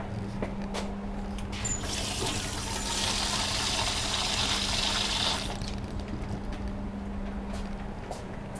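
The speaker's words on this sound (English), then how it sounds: "Let me get you some water here, pups." Water gushes steadily from a tap into a dog's bowl in a woodworking shop, a continuous close pouring hiss swelling for a few seconds then easing to a quieter trickle, with no talking.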